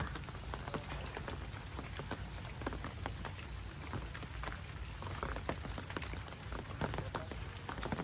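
Steady rain patters densely on surfaces nearby, with scattered sharper drops tapping through the constant wash.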